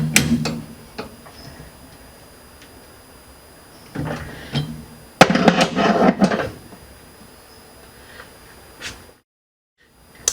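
A bolt tightened by hand in a lathe mandrel in a home machine shop, heard up close as scattered clicks and a louder burst of ratcheting, scraping metal in the middle, then a short pause and silence.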